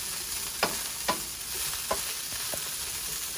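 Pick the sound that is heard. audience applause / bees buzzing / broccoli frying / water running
broccoli frying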